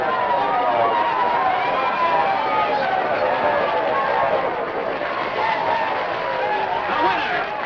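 A 1940s crowd cheers and shouts for the winning Barrowby coach, a dense, loud wash of voices held steadily throughout.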